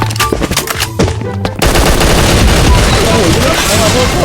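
Bursts of rapid gunfire in the shooting video game Bullet Angel, loud and close, with a player talking excitedly over the first shots before sustained firing fills the rest.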